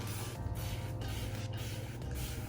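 A spray bottle sprays water onto a scalp in a steady hiss, continuous and close, with faint rhythmic breaks about every half second as the trigger is pumped.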